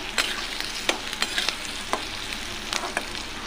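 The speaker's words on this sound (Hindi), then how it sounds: "इसको हम कलर चेंज होने तक भूनेंगे।" Finely chopped onion and chillies fry in a pan at home, a steady close sizzle under repeated sharp scrapes and taps of a spoon stirring against the metal, with no talking.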